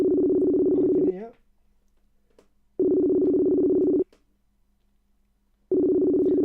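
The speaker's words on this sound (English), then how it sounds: "I'm ringing and everyone knows it's ringing because their phones are ringing" Outgoing phone call ringing tone, a steady low double tone sounding in two long bursts separated by silent gaps, fairly loud and alone.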